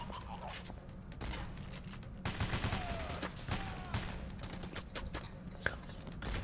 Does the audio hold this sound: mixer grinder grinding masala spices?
no